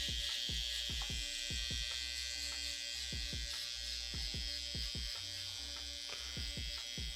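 Electric hair clippers buzz steadily while cutting a taper on the back of the head, with repeated short strokes through the hair, close and continuous, no talking.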